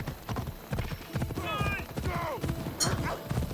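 Horse hooves clip-clop rhythmically during riding in the video game Assassin's Creed Odyssey, with a brief neigh in the middle, while someone talks over the steady hoofbeats.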